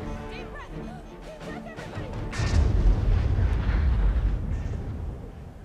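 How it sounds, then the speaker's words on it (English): A loud, low explosion from The Lego Movie video game, set in an underwater depths level, erupts about halfway through and rumbles on until the end, following quieter game music and effects. "Explosion."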